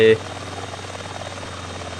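Helicopter in the video game GTA San Andreas, a steady low rotor and engine drone running throughout behind a brief burst at the start, with speech over it.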